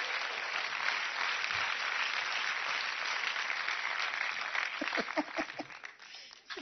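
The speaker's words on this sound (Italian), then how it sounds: "Applauditele se volete" Studio audience applause during an Italian television comedy monologue, steady dense clapping filling the whole stretch, with a few louder individual claps and voices emerging near the end as it dies down.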